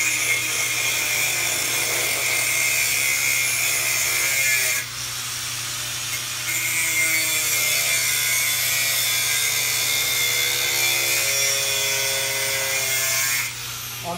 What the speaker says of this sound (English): I'm going to engage the disc in the corner, make my down cut and my cross cut first